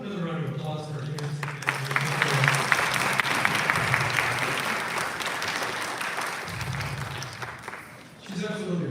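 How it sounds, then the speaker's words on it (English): An audience at the SBC Dallas Accelerator Program graduation applauds Terrence, steady and loud for several seconds, with a voice speaking over it at the start and end. "Another round of applause for Terrence."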